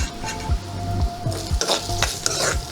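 Onions sautéing with fenugreek seeds and curry leaves: a bright sizzle under repeated rhythmic scrapes and knocks of a spoon against the pan, close up, with no talking.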